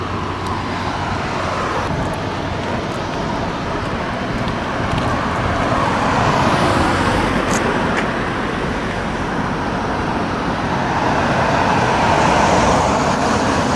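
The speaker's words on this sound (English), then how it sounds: "We're going to have traffic because we can't help that, because this is 24/7." Steady road traffic streams past near Reversing Falls by a bridge, a continuous broadband wash of cars, buses and trucks with gentle swells as vehicles go by, fairly loud and unbroken for the whole stretch.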